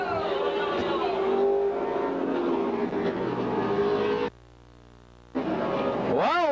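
Race cars roaring around the track at a restart after the green flag, loud continuous engine drone under commentator talk, with a brief drop-out near the end before a rising engine whine returns.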